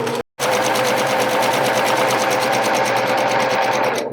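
A sewing machine runs steadily for about four seconds after a brief stop, stitching the waist seam of a pair of jeans being taken in; the whirring is loud, close and continuous.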